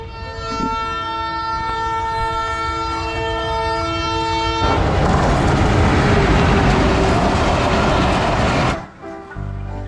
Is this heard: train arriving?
yes